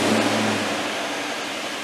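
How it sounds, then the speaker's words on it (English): A Range Rover L322 engine runs steadily at idle right after starting, a close, even hum with no voices over it. "So we're going to have to start the car."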